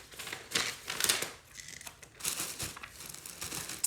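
Tissue paper crinkles and rustles in bursts close up as it is stuffed into a shipping box, with irregular crackling handling sounds and short pauses in between.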